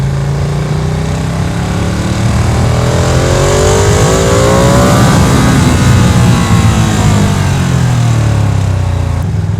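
A Ducati Panigale V2 mid-size sport motorcycle engine roars loud and continuous, its pitch sweeping up and then back down as it revs.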